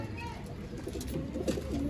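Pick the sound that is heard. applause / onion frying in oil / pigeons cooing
pigeons cooing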